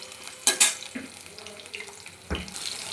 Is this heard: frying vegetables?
yes